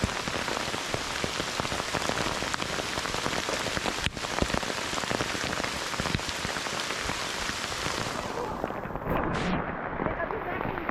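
Heavy rain patters densely and continuously on a nearby surface at Bly Gap on the North Carolina–Georgia border, loud and close throughout, with a brief rustle near the end.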